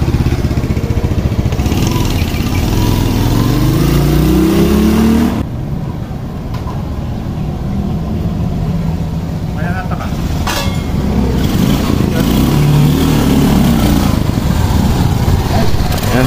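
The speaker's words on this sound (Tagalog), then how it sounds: "Ayan, test ride the Master TP." A Yamaha FZ 150 scrambler motorcycle runs on a test ride, a loud continuous engine drone with rising and falling revs, and a person speaks over it.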